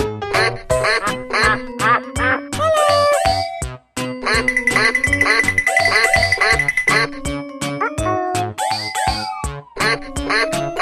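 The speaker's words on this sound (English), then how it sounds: "Duck." Cartoon duck quacks from a children's animation, loud and rapid, repeated in bouncy rhythmic bursts over playful tones and chimes, with a short pause partway through.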